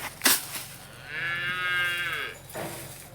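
Cattle in a farm feeding trough area give one long, loud moo that holds steady before trailing off, with a brief knock just before and faint farmyard noise around it; nobody speaks.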